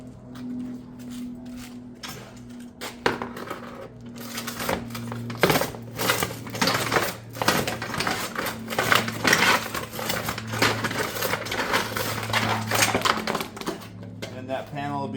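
A cutter slicing through a Pine Crest shake ridge panel: rapid, close clicking and crunching bursts that build into a dense run of rasping cuts, over a steady low hum.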